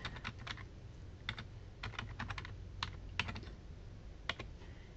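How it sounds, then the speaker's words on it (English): Card number being typed on a computer keyboard, with scattered bursts of quick key clicks in uneven groups, fairly close and moderately soft over a low room hum. "this is where you would enter your card number"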